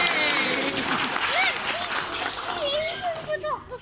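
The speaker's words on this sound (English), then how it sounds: "I'd like you to give her a big round of applause" An outdoor parrot show audience claps warmly for a bird finishing a climb, with a presenter talking over the applause and children's voices mixed in.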